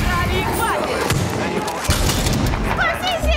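Bomb blasts and heavy booms from explosives set off in a public place in Far Cry 6, loud repeated thuds under game music and chaotic in-game action.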